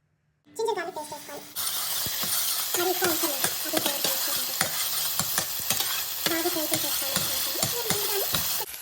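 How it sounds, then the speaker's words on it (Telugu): Ginger garlic paste sizzles loudly in a hot pan for fried rice, with a spoon clinking and scraping as it is stirred, and a steady frying hiss underneath. "జింజర్ గార్లిక్ పేస్ట్ కొంచెం ఫ్రై అయ్యాక"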